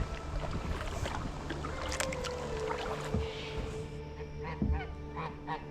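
A goose honks several times on a creek, harsh calls rising over a constant low rumble of a motor and water.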